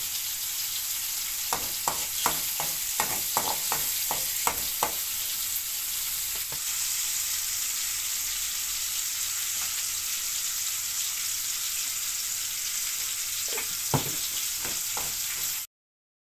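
Spice paste for an Acehnese tuna curry sizzles steadily in a wok, with bursts of scraping stir strokes near the start and again toward the end over the constant frying hiss.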